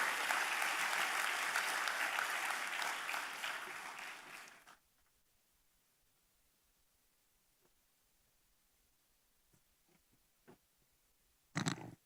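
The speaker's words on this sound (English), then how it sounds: "please welcome him with an energetic round of applause" A large audience at an Amity University Dubai orientation gives a loud, sustained round of applause welcoming the Vice Chancellor, then it stops abruptly into near silence, with a brief burst of noise at the very end.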